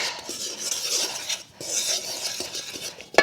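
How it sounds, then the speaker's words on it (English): A Danish dough whisk stirring baking ingredients in a bowl for muffins, making close scraping, swishing strokes in uneven bursts with a brief pause midway and a sharp knock at the end. "we're going to mix these together. And I really do love my Danish dough mixer"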